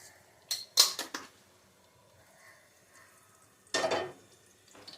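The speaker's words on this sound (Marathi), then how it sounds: "जिरं मोहरी घालूया फोडणीला." Cumin and mustard seeds dropped into hot ghee for a khichdi tempering, crackling and spattering in two short bursts, a cluster of pops early and another loud burst later, fairly close with quiet gaps.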